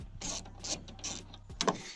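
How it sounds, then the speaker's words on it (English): Ratcheting of a hand tool removing the two 10 mm bolts from a Nissan Titan passenger-side taillight, a quick run of close mechanical clicks followed by a sharper rattle near the end. "Just two 10 millimeter bolts."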